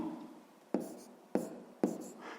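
Handwriting an answer to a fractions exercise in a fifth-grade maths lesson: three sharp, close strokes land about half a second apart, each fading quickly over a soft room background.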